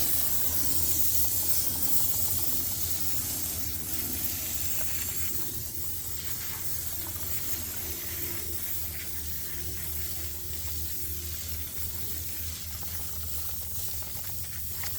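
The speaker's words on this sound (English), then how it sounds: "have my foaming sprayer using Adams." A foaming sprayer coats car wheels with Adams wheel cleaner in a steady, close hiss that runs without a break under a low constant hum, with no talking.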